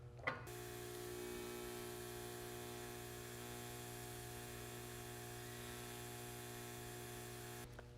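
Wire-feed welding tack on steel pipe, heard as a steady, close electric buzz and crackle that starts abruptly, holds for about seven seconds and cuts off, with no talk.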